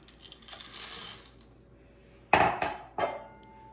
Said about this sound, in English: Now we're just going to add our chocolate chips